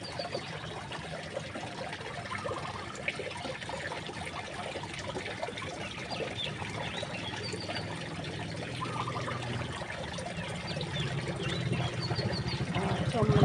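A small garden waterfall in a neighborhood yard, with fish in its pool, gives a steady soft trickle and splash of running water, faint and continuous, growing a little louder toward the end.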